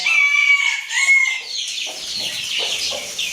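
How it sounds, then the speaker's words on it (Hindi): Chicks and fowl let out of their cage into the open, with busy overlapping cheeping and clucking calls up close, dense and continuous, with no talking. "इन चूज़ों को खुला छोड़ते हैं और"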